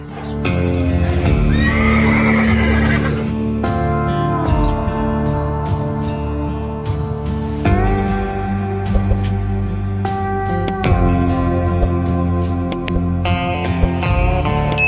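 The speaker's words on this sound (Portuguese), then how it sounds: "São os mustangs." Wild mustang horses neigh and whinny repeatedly over the drum of hooves, loud and continuous and mixed with a rich musical score throughout.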